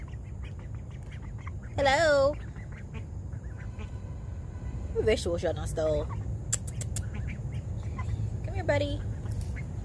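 Ducklings quack at a permaculture food forest pond in short, nasal bursts that recur every few seconds, mixed with steady outdoor background noise while a person talks nearby.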